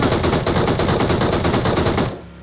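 Sustained rapid automatic fire from a DP machine gun in PUBG Mobile, loud and close, a dense unbroken burst that cuts off abruptly near the end.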